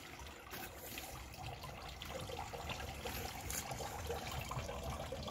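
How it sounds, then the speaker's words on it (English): Hands dip into a koi pond, making soft, faint splashing and trickling water sounds over a steady background wash. "I'm going to wet my hands."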